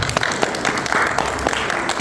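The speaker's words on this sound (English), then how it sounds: "We should all applaud him." A crowd claps together in a brief burst of applause, a dense, crackling patter of many hands that stays fairly loud throughout.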